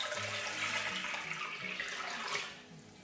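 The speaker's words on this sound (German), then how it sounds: "darauf geben wir jetzt 750 ml lauwarmes Wasser" Lukewarm water, 750 ml, pours into a bowl of yeast and sugar for flatbread dough, giving a short, close splashing gush that tapers off after a few seconds.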